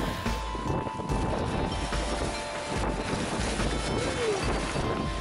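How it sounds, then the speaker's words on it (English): Wind roars across the microphone as a sailboat pounds through choppy lake swells during a race, waves slapping against the hull in a constant rush. "started bashing straight into the lake swells"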